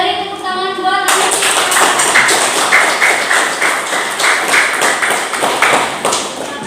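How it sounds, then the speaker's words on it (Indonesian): Students in a seventh-grade classroom break into loud, sustained applause for a classmate, with dense, steady clapping that holds for several seconds right after a brief spoken word. "Beri tepuk tangan buat Anin."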